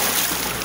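A wave of floodwater pushed up by a passing vehicle in a flooded gated condominium street in Satuba, Alagoas, giving a loud, close, continuous rushing and sloshing wash.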